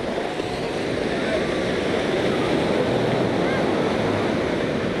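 Sea waves surging onto the Black Sea shore at Varna after a storm swell, a constant loud wash of surf mixed with wind rush, with no let-up throughout.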